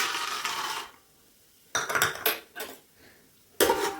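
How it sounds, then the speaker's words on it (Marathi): Peanuts stirred in hot oil in a pan with a metal spoon: loud scraping and rattling bursts at the start and near the end, quieter scrapes between, with no talking. "चांगले हलवून घेऊ आपण."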